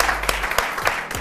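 Audience applause for a singer during a French music show: a short, loud burst of clapping from a crowd, with a few sharper claps standing out over the wash.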